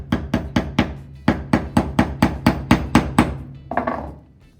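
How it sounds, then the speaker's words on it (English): Electrical nails being hammered into a wooden block: a quick run of about a dozen sharp, evenly spaced metallic-wooden strikes close by, briefly pausing once, then a final softer knock, with no talk. "and then hammer it down without that in there."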